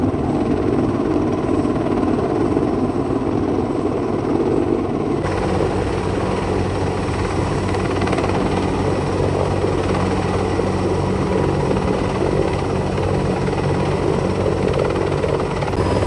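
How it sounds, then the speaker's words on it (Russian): A heavy Mi-26 transport helicopter flies overhead with an identical Mi-26 slung beneath it, its rotor and turbine roar steady and loud throughout, thickening after the first few seconds with no voices. "Сейчас оттуда полетит вертолет, который тащит на подвесе."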